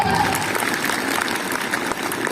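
An outdoor gathering of a crowd at a school event in Balaghat claps loudly together, a dense, steady patter of many hands that holds at an even level for a couple of seconds.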